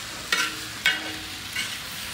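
Mexican-style chicharrones, pork rinds, fry in hot oil with a constant close sizzle, broken by three scraping stirs of a utensil through the pan, and no one talks.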